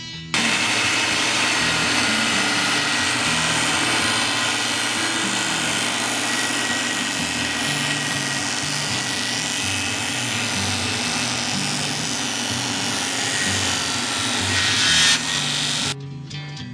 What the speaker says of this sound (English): Then I set the saw blade to cut just the very narrow part of the other side of the piece of wood.